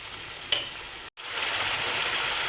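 Spice masala is sautéed in a pan for Bengali cooking, giving a steady soft sizzle with a brief clink near the start and a short gap, with no voices.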